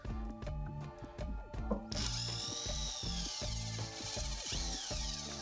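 A Procraft cordless screwdriver backs out a deeply driven screw, close and loud: stuttering motor bursts with rhythmic clicking, then a rising whine as the screw frees and spins out.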